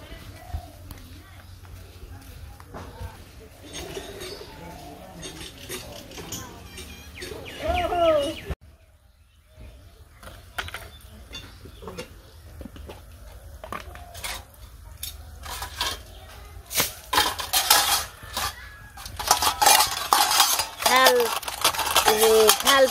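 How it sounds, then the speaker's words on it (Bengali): Metal plates and dishes washed and scrubbed by hand in a village setting, with intermittent scraping and clinking that grows busier toward the end, under talking voices and occasional bird chirps. "চলেন থাল ধুয়ে নিই,"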